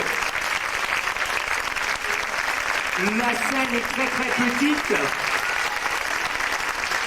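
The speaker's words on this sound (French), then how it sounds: "Je crois qu'on peut les applaudir très très fort" Audience applause for performers after a stage act, sustained and full throughout, with a voice speaking over the clapping partway through.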